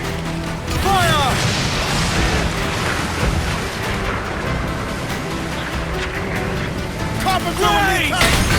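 Pirate-ship cannons boom in a naval battle in Assassin's Creed Black Flag, with two heavy broadside blasts crashing over wind and waves while crew voices shout throughout.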